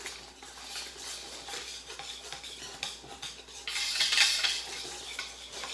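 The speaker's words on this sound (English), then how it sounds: "we're going to take our whisk and we're going to mix everything together now" A whisk stirs a pot of seasonings for homemade meatballs, scraping and clinking against the pot in a quick, uneven rhythm that grows louder and busier toward the end, close up with no talking.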